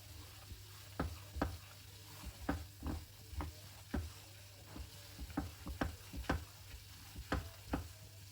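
Semolina roasting in a pan for fig halwa, a dry scraping stir with a faint sizzle and a run of sharp spoon clicks and taps against the pan, fairly close and steady.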